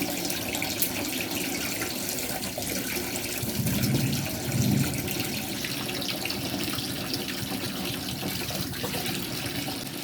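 Tap water runs steadily into a sink as vegetables are washed for a Filipino bulanglang (laswa) vegetable dish, a continuous close splashing with a slightly fuller surge midway, no voices.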